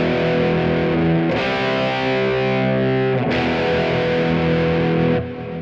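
Electric guitar played through a Kemper Profiler with stereo width set to 180, a loud, sustained distorted chord tone that is restruck twice and rings on continuously.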